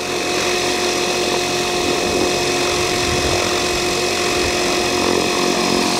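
RC helicopter with a Hobbywing Platinum V4 speed controller, Spirit GT and Spektrum gear, its motor and rotor head spinning at a settled speed, producing a loud, even whine with steady tonal hum throughout.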